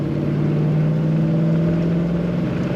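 A 1940 Ford Standard Coupe street rod engine drones steadily under throttle, a loud continuous low hum from inside the car with no talking.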